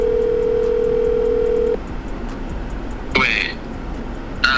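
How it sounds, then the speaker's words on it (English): A phone call's steady dial tone on a livestream plays for under two seconds and then cuts off, followed by faint speech and a couple of brief electronic blips. "She ended up calling FaZe K-Song on stream around the time all of this went viral"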